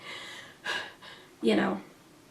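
A person imitates waking from a panic dream, gasping for breath: two quick sharp inhaled gasps followed by a longer strained intake, close and alone.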